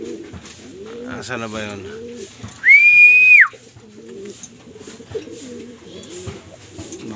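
Racing pigeons coo in a loft during a New Year's pooling race, soft repeated coos mixed with one loud, sustained high whistle in the middle, while people talk throughout.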